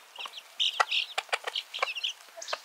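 A mother hen near her chicks gives soft, rapid clucks mixed with higher chirpy peeps, in a busy irregular run of close, moderately quiet calls with no talk over them.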